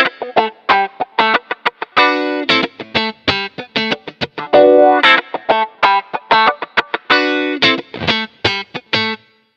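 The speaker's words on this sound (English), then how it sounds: "the Cry preset, which is a good starting point for pedal wah sounds" Kemper Profiler Stage guitar wah effect using the Cry preset, with distorted electric guitar phrases whose tone sweeps as the pedal moves, played in a steady stream of strummed and picked notes, loud and close, with no talking.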